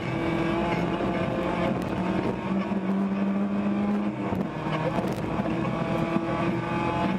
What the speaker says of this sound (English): our helicopter's getting ready to take off. They're spooling up those propellers.